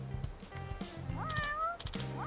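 Kitten meowing inside the Pirate Yakuza in Hawaii video game, several clear, close meows in quick succession over soft background music.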